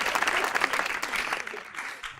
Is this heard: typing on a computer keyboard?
no